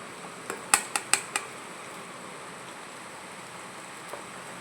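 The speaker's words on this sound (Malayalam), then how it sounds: "വിനാഗിരിയും കൂടെ ചേർത്ത് ഒന്ന് വയറ്റുക" Spice masala with vinegar being stirred in a pan for a raisin pickle, a handful of sharp metallic clinks from spoon on pan in a quick cluster over a faint background, then one soft tap later.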